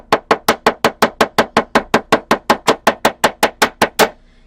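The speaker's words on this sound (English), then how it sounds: "now I'm going to go back with my round side of my hammer" Steady, evenly spaced blows from the round face of a hammer texturing a metal jewelry charm, about nineteen sharp ringing strikes in a row, close and loud, then stopping.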